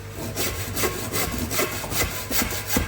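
A hand saw cuts through wood with steady back-and-forth strokes in a quick, even rhythm, close and loud, with a gritty rasp on each pass and no voices.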